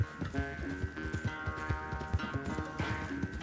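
A horse's hooves beat at a gallop in Red Dead Redemption 2, a fast, even clip-clop rhythm of many hoofbeats at moderate loudness over a steady tonal music bed, with no one talking.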